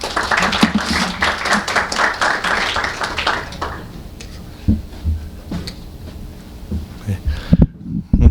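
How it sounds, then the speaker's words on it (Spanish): An audience at a medical seminar gives a burst of clapping that is loud for about four seconds, then thins to scattered claps under background noise. "vamos a recibirlo con un aplauso"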